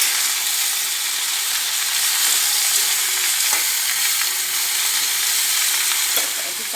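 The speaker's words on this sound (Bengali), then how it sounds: "নুন দিয়ে একটু নেড়ে চেড়ে নিয়ে ঢাকা দিয়ে দেবো।" Thin curry with salt added simmers and hisses in a pot while it is stirred, a loud, steady close sizzle with a few soft scrapes near the end.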